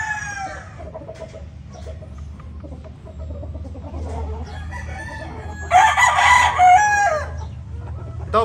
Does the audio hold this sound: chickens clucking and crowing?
yes